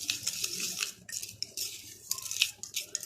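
A spoon clinks and scrapes against a small bowl while homemade skin whitening ingredients are mixed, quick irregular metallic taps and stirring scrapes, close and alone.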